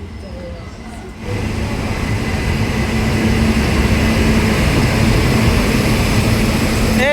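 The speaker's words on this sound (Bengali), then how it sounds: "সায়রাং এক্সপ্রেস এখন চলে আসলো।" The Kolkata–Sairang Express (13125) pulling into platform 2 at Lalgola station, a deep engine rumble rising after a quieter opening and holding loud and steady, with a horn-like tone near the end.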